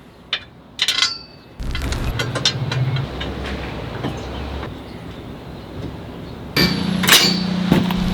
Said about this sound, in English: you tighten down the 6 bolts, 3 on either side